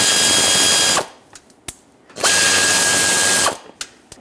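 A ratchet spins out 10mm-headed bolts from the bumper cover of a 1997-2006 Jeep Wrangler in two long, loud, close bursts of rapid clicking, with short metallic taps between them.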